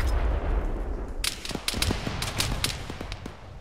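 Gunfire in the military shooter game Arma 3, a rapid cluster of sharp cracking shots, some in quick bursts, over a low rumbling background with no talk.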